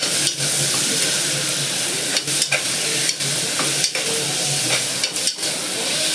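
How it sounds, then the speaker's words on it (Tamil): Ingredients for mutton soup sauté in hot oil, a loud continuous sizzle broken by repeated spatula stirs and scrapes against the pan. "இதை நம்ம எண்ணெயில் நல்லா வதக்கிக்கலாம்"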